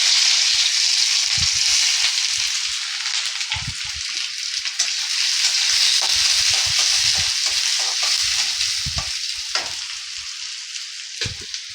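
Onions fry with nigella seeds in hot oil, a loud, continuous bright sizzle filling the pan, broken by occasional low thumps and stirring knocks.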